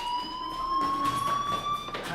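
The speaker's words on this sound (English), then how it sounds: "do you hear that fire alarm?" A steady fire alarm rings inside a school in the video game Life is Strange, a sustained electronic tone holding one pitch with bright overtones, fairly loud and continuous, with no talking over it.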